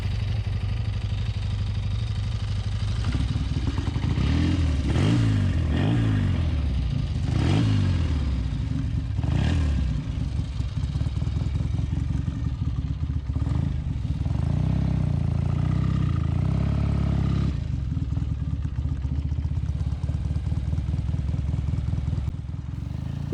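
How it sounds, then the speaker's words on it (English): A 1972 BSA Lightning 650 motorcycle, a low-compression twin that kicks over easily, fires up and runs, settling into a loud, steady idle with several blips of revving, heard up close and alone. "this bike starts very easily"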